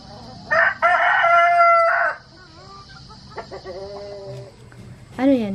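A labuyo (red junglefowl) rooster on a farm crows loudly and close by in one long call, followed by softer clucks and another short crow near the end, with a person talking faintly in between.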